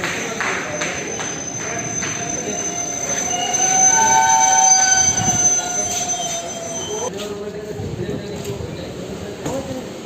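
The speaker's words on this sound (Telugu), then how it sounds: "మరి కొద్దిసేపట్లో రాయచూర్ నుంచి కాచిగూడకు వెళ్ళవలసిన ట్రైన్ మన మక్తల్ రైల్వే జంక్షన్కు వస్తున్నది." A passenger train running from Raichur to Kacheguda pulls into Makthal railway junction, its wheels squealing in high sustained tones over a rumbling roll that swells midway, with voices in the background.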